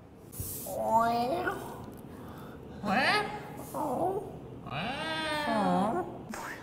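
Several rising and falling meow-like cries come from a person imitating a cat, delivered in a playful voice across a few separate calls, the last one long and wavering.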